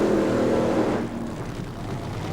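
A top fuel funny car roars loudly at the NHRA drag race in Topeka, the engine noise fading after about a second into a rough, lower rumble.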